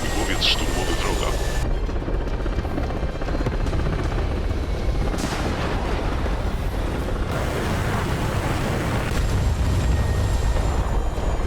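Enemy attack helicopter approaching in a tank combat video game, a continuous loud rotor and engine roar blended with battle rumble and occasional blasts, with no voices.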